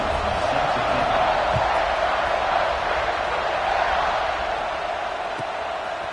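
A large football stadium crowd roars before a kickoff, a dense, continuous wall of cheering that holds steady for several seconds, heard from within the stands, with no distinct voices.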